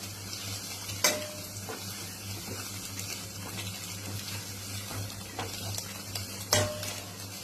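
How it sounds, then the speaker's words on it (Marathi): Vegetables stir-fried with Maggi masala sizzle steadily in a pan, with occasional clanks of a utensil against the pan and a constant low hum underneath, no talking. "त्याच्यापेक्षा आपण ह्या भाज्यांबरोबरच टाकूया मॅगी मसाला"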